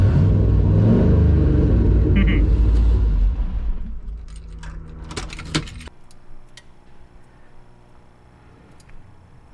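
A big-turbo LS6 V8 engine in a Volvo revs loudly with a deep rumble, then cuts off, leaving faint ticking and quiet clinks as it settles.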